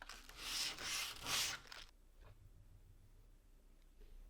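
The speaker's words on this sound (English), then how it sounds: "I like to take a bit of sandpaper and ease this edge." Sandpaper rubs along the edge of a wooden art panel in three quick, close, hissing strokes, then stops, leaving only quiet room tone.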